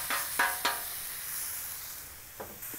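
Chicken fajitas searing on the hot side of a two-burner Blackstone Adventure Ready 28-inch griddle: a soft, continuous hiss with a few sharp spatula taps and scrapes, fairly quiet and close.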